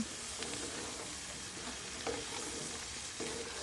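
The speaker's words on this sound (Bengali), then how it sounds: "একটু নাড়াচাড়া ভালো করে করে নিয়ে তারপর আমি জল দিয়ে দেব।" A spiced potato and cauliflower curry fries and is stirred in a pan. A continuous close sizzle runs throughout, broken by a few scraping stirs and no speech.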